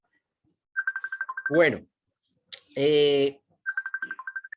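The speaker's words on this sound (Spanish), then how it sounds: "está sonando un teléfono que no sé de quién es" Ringing phone belonging to someone unidentified during a church talk, sounding as rapid beeping trills heard twice around a person's spoken words.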